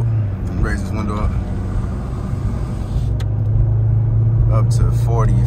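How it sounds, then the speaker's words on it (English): A car pulls onto the road and builds speed, its engine a steady loud rumble with a low drone rising slightly toward the end, while people talk over it inside the cabin. "Try to get it up to speed real quick."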